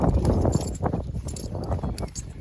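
Hooves of a mare and foal clip-clopping unevenly on a hard surface, close by, with faint rustling and shuffling around them.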